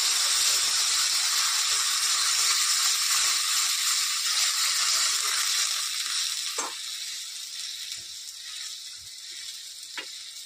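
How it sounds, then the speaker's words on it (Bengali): Water hits a spice paste frying for a fish curry on a village clay stove, setting off a loud, steady hissing sizzle that eases after several seconds. A few sharp utensil clicks follow near the end. "মশলাটা কষানো হয়ে গেছে, এখন এর মধ্যে জল দিয়ে দেবো।"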